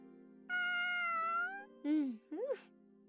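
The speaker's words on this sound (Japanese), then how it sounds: "首輪をしている。 ということは飼い猫か。" A collared pet cat in the Sword Art Online Alicization Lycoris video game meows three times, one long drawn-out call followed by two shorter rising meows, close and clear over a low background hum.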